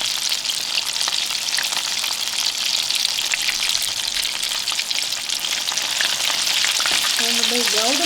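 Homemade Chick-fil-A style chicken nuggets fry in hot oil, giving a steady, close, crackling sizzle throughout, with a brief voice-like tonal sound near the end.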